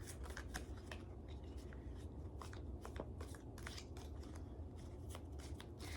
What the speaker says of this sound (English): It's just hard to shuffle, so bear with me while I shuffle this.